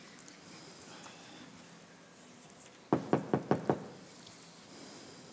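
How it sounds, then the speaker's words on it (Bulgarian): During a Christmas stage play, someone raps on a door five times in a quick, even burst that stands out sharply against the quiet room. "Не чукайте на вратата ми!"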